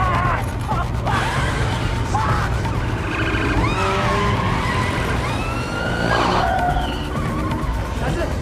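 A bajaj and police cars in a street chase: engines roar and tyres screech in several drawn-out skids, with a siren wailing over the close, loud traffic noise.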